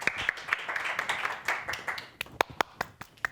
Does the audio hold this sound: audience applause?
yes